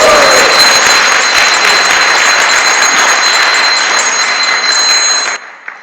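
A loud, dense burst of audience applause fills a temple hall during a Sunday feast, sustained for about five seconds before cutting off abruptly, with a steady high ringing tone running underneath.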